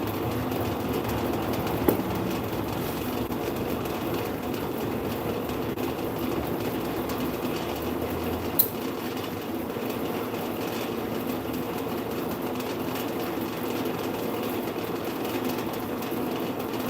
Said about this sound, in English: That sounds like a tractor trailer has decided to park outside.